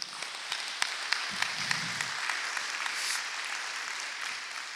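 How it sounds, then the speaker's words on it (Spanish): A church congregation applauds the Lord during a sermon, a steady wash of clapping with some sharper individual claps, moderately distant and fairly quiet. "¿Le puedo dar un aplauso al Señor?"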